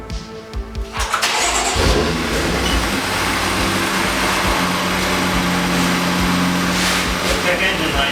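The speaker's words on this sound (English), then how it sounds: "we're gonna go do the first startup" A 2015 BMW F80 M3 engine, fitted with aftermarket downpipes and a Stage 2 tune, cranks briefly, then fires and settles into a loud, steady rumbling idle up close, with voices faintly underneath.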